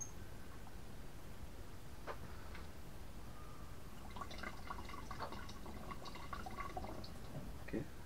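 Water pours into a small homemade wooden whiskey barrel, a faint, steady trickle with scattered drips and splashes under constant background hiss, growing a little busier in the second half.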